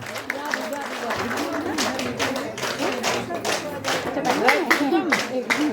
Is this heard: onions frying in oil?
no